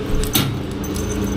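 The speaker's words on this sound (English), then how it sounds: "Okay, we got the keys." Hotel room keys jangling briefly at close range, a couple of light metallic clinks and rattles over faint room noise.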